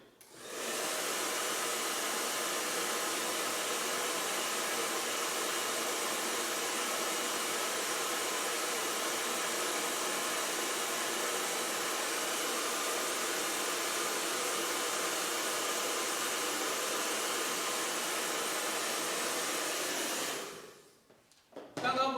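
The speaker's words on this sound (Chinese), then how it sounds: "这个时候我把这里稍微吹干一下" A hair dryer blows steadily on an ink landscape painting to dry it, a loud continuous whooshing roar close by for about twenty seconds before switching off with a clunk.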